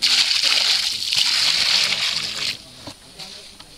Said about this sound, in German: Und das Wasser wird jetzt den ganzen Baum ein bisschen einschlemmen